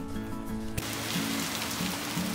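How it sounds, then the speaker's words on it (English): Rain falls steadily during a December hailstorm in Northeast Ohio, a constant close patter with a low hum running beneath it. "the rain's here"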